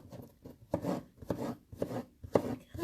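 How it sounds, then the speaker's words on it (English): A knife chops zucchini for a salad on a board in a steady series of close, moderately loud cuts, with no talking. "Chopping it up about similar size"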